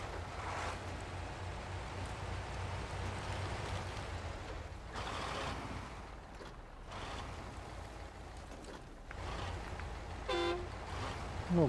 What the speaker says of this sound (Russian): Ну, гудок вот стандартный